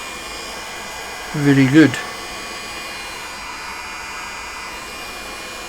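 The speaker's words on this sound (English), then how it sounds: "there we have a little blower with a heating element." A popcorn maker's small blower with a heating element runs at low voltage, giving a steady, even airy hum throughout while a person briefly speaks over it.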